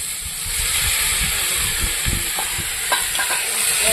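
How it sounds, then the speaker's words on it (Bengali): Fried fish pieces with tomatoes and ground chilli spice paste hiss and sizzle in a pan up close, with soft low bumps and scrapes of stirring throughout and no talking. "মশলার সঙ্গে মাছটা আমি একটু ভালো করে কষিয়ে নেব"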